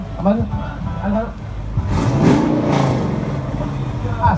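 A Dodge Dakota pickup at a high-end car meet revs up, a rising roar that swells and holds after a quieter start, close and loud, with someone talking over it.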